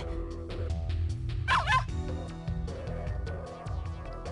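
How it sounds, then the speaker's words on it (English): A dog's loud bark sound effect from the Ever17 visual novel game rises briefly in the middle of steady background music, with no voices. "Phoebe looked at Hokuto at me and gave a loud bark"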